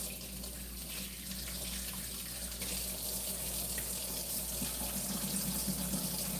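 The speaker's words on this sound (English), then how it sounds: "I'll wash my hands." Water runs steadily from a tap during handwashing, a constant close, loud rushing stream throughout with no voices.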